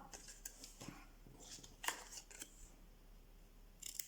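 Scissors snipping cardboard on the diagonal while making an advent calendar box, a few quiet crisp cuts in short bursts with pauses between, close and faint.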